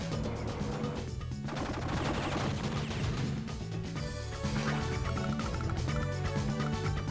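Artillery fire from the Advance Wars DS game on the Verdant Hills mission, a dense burst of game gunfire and explosion effects layered over steady background music with no talk.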